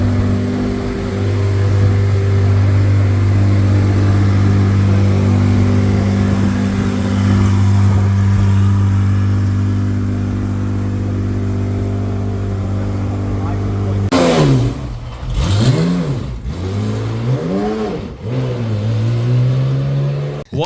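A Porsche Cup race car engine holds a loud, steady drone while driving, then revs hard several times in rising and falling sweeps near the end.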